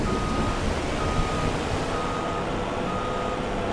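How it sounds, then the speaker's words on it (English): A small truck reversing in the video game Farming Simulator 25: a steady high reversing beep over a dense engine rumble and broadband noise, continuous and fairly loud, with no talk. "This little truck is awesome."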